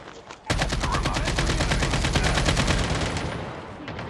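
Rapid automatic gunfire in the mobile shooter game Call of Duty Mobile battle royale mode, a loud burst starting abruptly and rattling continuously for several seconds before tapering slightly.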